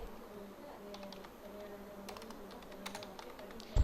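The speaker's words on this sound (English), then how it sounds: "So I am going to type 6th standard." Computer keyboard keys tapped at a desk while entering a sheet name in a spreadsheet program, a few soft scattered clicks over a steady low hum, with a louder knock at the end.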